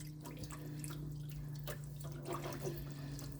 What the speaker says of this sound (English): Now you're gonna add this water, 4 cups of water, and just break up all those lumps of the roux.